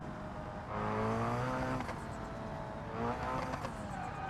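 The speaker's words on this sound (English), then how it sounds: "Listen to the turbo." Turbocharged engine of an Ibishu 200BX in BeamNG.drive, a driving game, revs and rises in pitch, holding a droning whine, then eases and builds again, fairly faint.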